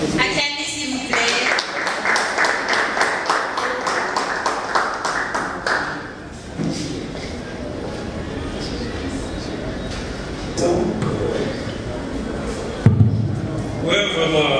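An audience at a Congolese youth event gives a burst of rapid, rhythmic clapping for about six seconds that tapers into scattered claps under a speaking voice, with a few later knocks.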